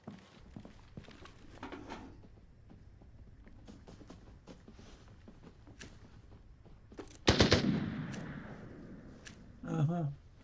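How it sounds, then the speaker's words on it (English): Shotgun fire in a video game: one loud, sharp blast with a long echoing tail, then a second, shorter burst near the end, over low steady game background noise. "someone's shooting a shotgun."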